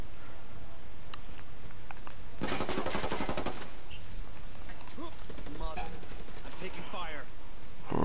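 Automatic gunfire in the video game Ghost War, a rapid, loud burst of rattling shots in the middle, with scattered single shots and voices talking around it.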